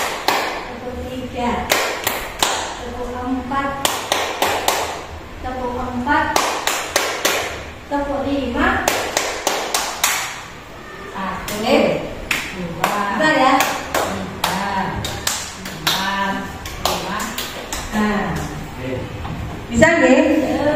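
A group of teachers plays a counting clap ice-breaker, clapping in rhythmic bursts of one to five claps, pausing between rounds while a leader calls out the counts and voices speak throughout.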